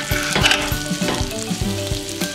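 Steady, loud sizzling and frying in a hot Red Copper pan, with several sharp scraping or stirring clicks scattered through it.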